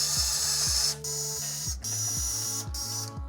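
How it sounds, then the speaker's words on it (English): Four screws are backed out of a car headlight bezel by a whirring mechanical driver that runs in short repeated bursts, each rising in pitch, close and clear with brief pauses between. "there are 4 screws holding this bezel that have to be removed"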